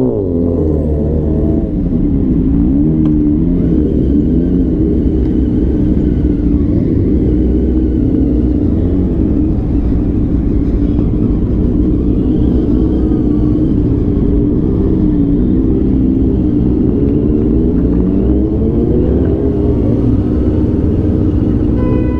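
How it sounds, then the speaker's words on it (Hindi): Kawasaki ZX10R and Honda CBR 1000 superbikes rumble with a deep, continuous exhaust roar throughout, loud and close, with engine revs rising and falling and no talking over it. "you can see the roaring exhaust sounds of all super bikes"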